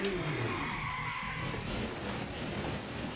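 A GT500-era Toyota Supra spins out in Project Motor Racing, its tyres skidding in a long continuous squeal over a steady engine drone, loud and unbroken for several seconds.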